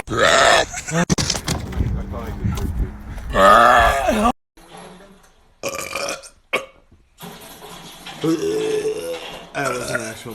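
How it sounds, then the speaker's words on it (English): Loud, drawn-out burps from young men, several in a row with pauses and brief gaps, close to the microphone and mixed with grunting voices. "That was an actual burp."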